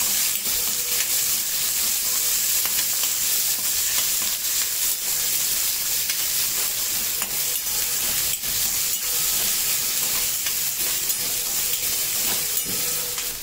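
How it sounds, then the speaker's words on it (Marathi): Onion and curry leaves fry in a pan of oil for a chickpea usal, giving a loud, continuous sizzle and hiss with occasional stirring scrapes. "कढीपत्त्याचे पानं टाकते 10, कांदा टाकते, कांदा चांगला परतून घ्यायचा।"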